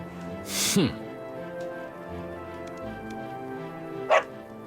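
A dog in Dragon Quest XI barks in short, sharp yips, one early and one near the end, over a soft musical background.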